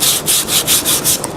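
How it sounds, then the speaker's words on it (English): Hand sanding rasps over the wooden parts of a treadle sewing machine in steady, rhythmic back-and-forth strokes, loud and close with no voices. "I've been sanding without extracting the dust."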